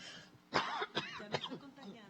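Close by, a person clears their throat and gives a few short coughs in quick succession, quiet and alone.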